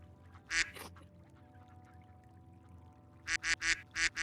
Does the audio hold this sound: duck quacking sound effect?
yes